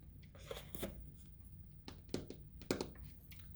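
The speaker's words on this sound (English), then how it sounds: "I'm going to give it a quick shuffle" A deck of cards being shuffled in quick riffling bursts, three or four separate rustles spaced over a few seconds, close and moderately loud against a quiet room.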